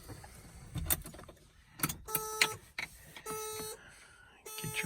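A 1977 Datsun 280Z's key-in warning chime sounds as a steady electronic tone in two long stretches, following some clicks and handling noises inside the car.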